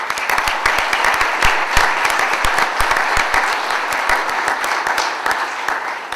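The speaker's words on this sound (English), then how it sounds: "I just want to have an applause for the work that the two groups are doing" Audience at a university board of trustees meeting in Chapel Hill applauding, close and lively clapping with sharp individual claps standing out, sustained for several seconds and easing slightly toward the end.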